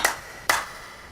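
Two crisp hand claps roughly half a second apart ring out alone in a quiet room, a sarcastic gesture during a heated family argument in a Hindi TV drama.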